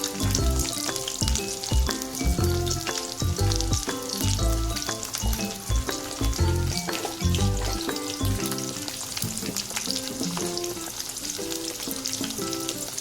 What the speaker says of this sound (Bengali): আলুটাকে ভালো মতো ভেজে নেব।